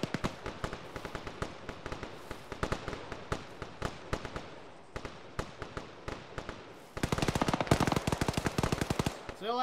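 A .50 caliber machine gun fires in a military video game, with rapid bursts of heavy shots in a steady staccato rhythm, loud and close, intensifying into a dense sustained volley near the end.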